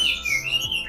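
A large-bodied magpie-robin (kacer) sings a bright, clear whistled phrase close by, sweeping and chirping over a quiet background.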